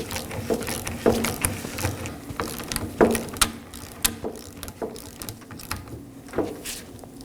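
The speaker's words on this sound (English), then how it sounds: "Now let's go ahead and secure our 16mm nut." A ratchet tightening a 16mm nut on a 2018-2024 Chevrolet Equinox rear shock absorber, with irregular bursts of metallic clicking and clunks at close range, repeated over several seconds.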